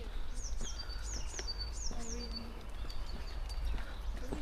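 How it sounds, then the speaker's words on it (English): Birds in a garden in Victoria give repeated short high chirps and tweets at a moderate distance over a low background hum, with no talking. "The local wildlife birds, they twerp nicer than the Malaysian birds."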